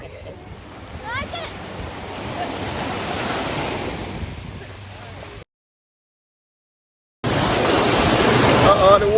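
Ocean surf washing up on a Florida beach at Vero Beach, a steady loud roar of breaking waves with wind buffeting the microphone, broken by a brief dropout before the surge returns; voices are heard faintly.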